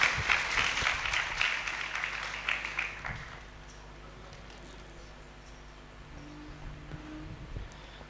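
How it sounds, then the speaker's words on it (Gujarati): An audience applauds a speaker at a Guru Purnima gathering in Himmatnagar, a burst of clapping that fades over about three seconds, leaving quiet room noise and faint murmurs. "ખૂબ ખૂબ જોરદાર તાળીઓથી આપણે એમને વધાવીએ"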